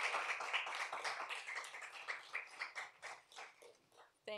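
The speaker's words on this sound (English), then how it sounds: "We'll clap for them." Audience members clap for a conference planning committee at a Climate Week NYC event on equitable, climate-friendly buildings, a moderate run of scattered claps fading over several seconds before a short burst at the end.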